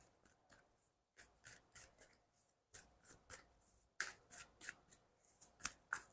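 Tarot cards are shuffled by hand in quick, rhythmic bursts of riffling and rubbing, close and quiet, with brief pauses between rounds and no talking.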